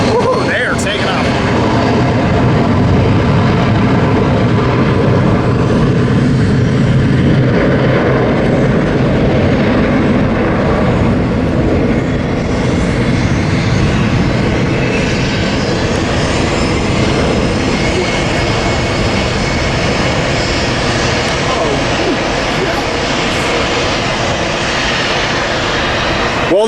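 A jet airliner takes off from San Diego airport with a loud, continuous engine roar that holds steady throughout, and voices talk over it.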